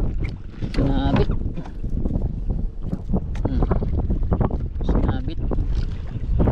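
Strong wind buffeting a microphone out on the water while fishing from a boat, with gusty low rumbling throughout and people talking over it.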